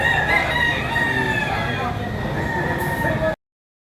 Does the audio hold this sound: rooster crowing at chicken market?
yes